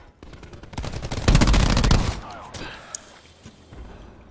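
Automatic gunfire rattles in a video game as enemies keep shooting, with rapid bursts building to a loud dense volley at the midpoint, then fading into scattered thuds and single shots.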